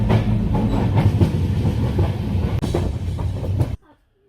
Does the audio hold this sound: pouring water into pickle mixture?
no